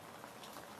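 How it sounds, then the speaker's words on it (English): Steady rain falling outdoors in an alley, a dense even hiss of drops spattering on surfaces, continuous and moderately distant, with no voices. "It's raining."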